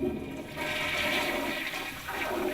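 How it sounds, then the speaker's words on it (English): A toilet flushes in one continuous rushing, gurgling wash of water, close and steady throughout, with no voices. "flush it"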